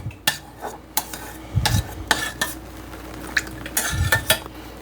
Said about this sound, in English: now let's just stir it in